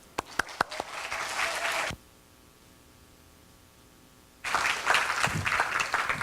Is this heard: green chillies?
no